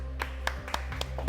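Applause for Dennis finishing a spicy salsa challenge: a brief run of sharp, separate hand claps at a steady beat over a low room hum.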